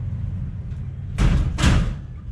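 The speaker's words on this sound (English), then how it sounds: "I'll just close the door now" Door being pulled shut in a house kitchen, two soft, muffled thuds close together over a low room hum.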